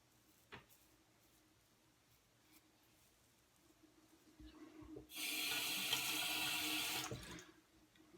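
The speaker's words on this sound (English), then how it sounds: "I do have to rinse it a little more because the blade's smaller." Tap water running over a small straight razor blade as it is rinsed, a steady close rush lasting about two seconds after some quiet handling noises, then cutting off.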